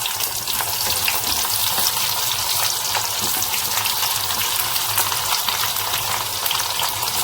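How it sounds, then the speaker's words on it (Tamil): Steady, dense sizzling of dried red chillies frying in hot oil, continuous and close, with no talking. "எண்ணெயில் நல்லா வரமிளகா வணங்கிட்டு இருக்கு"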